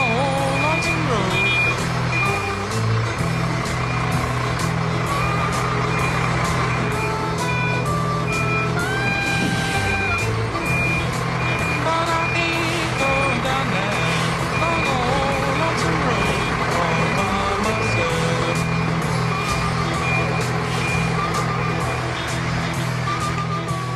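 A large vehicle manoeuvres on a narrow road, its engine rumbling steadily while repeated reversing beeps sound, with people talking over the noise.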